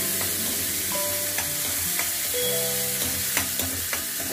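Finely chopped onion and tomato fry in a pan for an aloo matar curry, giving a constant sizzle with occasional stirring knocks, moderately loud with no voices.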